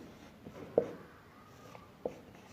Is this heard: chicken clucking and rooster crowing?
no